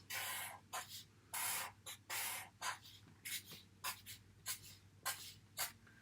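A pen draws candles on paper. Close, quiet scratchy strokes come in short bursts, some longer and some quick, with brief pauses between them and no talking.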